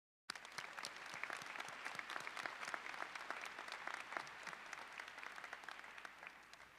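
Graduation crowd at Gas South Arena in Johns Creek, 2022, applauding parents and mentors: sustained, even clapping from a large arena audience, starting abruptly and heard distant and faint throughout.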